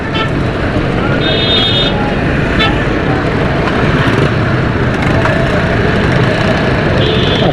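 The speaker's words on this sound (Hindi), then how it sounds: "अब यहाँ पर ट्रैफिक जाम हुआ है" Dense roadway noise in a city traffic jam on Khayaban-e-Ittehad, a steady rumble of idling engines with occasional horn toots, loud and close, with voices talking over it.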